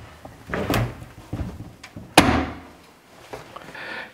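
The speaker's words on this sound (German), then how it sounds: "Nach dem Lösen der Gelenke und Rausnehmen der Schrauben kann ich die Tür jetzt rausnehmen." A refrigerator door lifted free after its hinges are unscrewed, with a sharp knock or clunk midway among softer handling bumps and rattles, close by with no talking.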